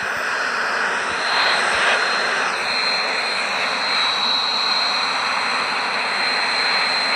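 F-18 carrier-borne jet aircraft taking off at Honolulu International Airport in Hawaii, a loud continuous engine roar with a high steady whine that holds throughout, heard alone without voices.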